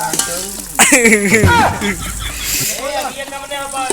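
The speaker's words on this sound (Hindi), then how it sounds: "प्याज को भुना जा रहा है अच्छे तरीके से" Onions frying in oil over a wood-fired clay stove at an outdoor cooking party, a steady close sizzle under loud speech.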